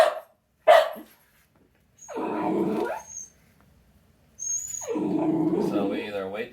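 A reactive dog barking, with two sharp, close barks followed by longer growling, whining outbursts, the whole sequence mixed with a person talking.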